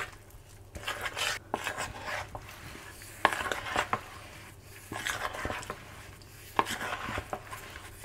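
Batter for blanched cauliflower is stirred in a bowl, a series of soft scraping and tapping strokes at an uneven rhythm, close and quiet with no talking.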